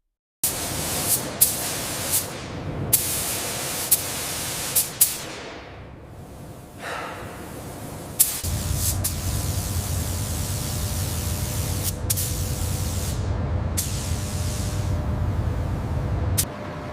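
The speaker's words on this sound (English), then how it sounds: "the seams of the floor pan and roof gutters are meticulously sealed with this high-quality compound" Compressed-air spray applies sealing compound to the floor pan seams of a 1972 Mercedes W116 body in a factory, a steady hissing rush with sharp bursts early on and a long continuous spray afterward.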